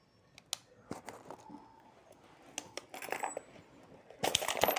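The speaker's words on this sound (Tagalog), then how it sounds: "Ayan po ang kanyang coins." A pile of common coins is tipped out in a quiet room, giving scattered metallic clinks and jingles that build to a louder cascade at the end.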